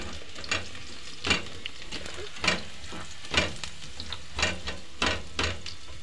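Garlic sizzling in oil in a pan for lechon paksiw, a constant frying hiss broken by sharp rhythmic spatula scrapes and stirs about every second, no talking.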